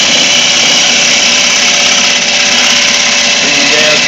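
A wood lathe spinning as a gouge rough-turns the blank, giving a loud, steady close-up roar of motor and cutting with no break throughout.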